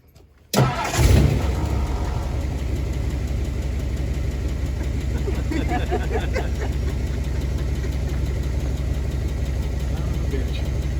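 A 1962 Ford Galaxie engine with a rebuilt 2-barrel carburetor cranks and catches, then settles into a steady, loud, close idle that runs on alone for about ten seconds.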